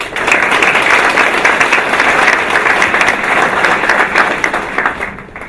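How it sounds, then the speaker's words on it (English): A large audience at a programming lecture in Copenhagen gives a loud, continuous round of applause for the speaker, a thick wash of clapping that holds steady throughout. "please give applause to Simon"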